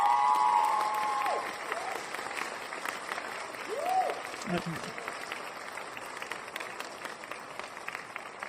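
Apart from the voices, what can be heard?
applause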